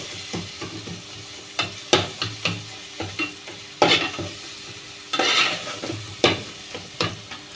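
Prawn pakoda gravy cooks in a pan on a high flame, sizzling under repeated sharp stirs and scrapes of a spoon. The strokes come close together and sound near and clear.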